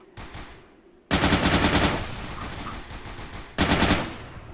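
Gunfire in a tactical shooter video game: a soft distant burst, then two loud, close bursts of rapid automatic fire, the first lasting about a second, the second shorter.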